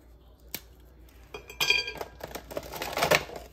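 Microwave-made peanut and walnut brittle snaps and crackles as it is broken up in quick irregular bursts, brittle cracking with glassy clinks, getting busier and louder toward the end.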